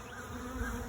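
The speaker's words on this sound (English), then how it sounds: "these bees may be going to my swarm trap" A dense, continuous drone of many honeybees swarming in flight outdoors, heading toward a swarm trap in a field, steady and close throughout.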